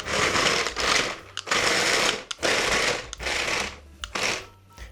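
Small robot's geared motors whirring loudly as it drives over a hard surface, a series of buzzing bursts of roughly a second each with brief stops and clicks between, close by and without talk.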